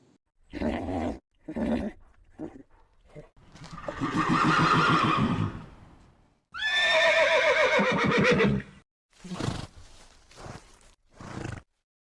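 A horse neighs loudly in several long, shrill whinnies, mixed with shorter snorting bursts and pauses, close and clear with no talking.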